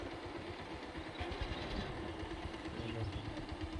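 A motorcycle idles on a village path, a faint low, steady putter with a soft rumbling pulse running throughout under quiet background noise.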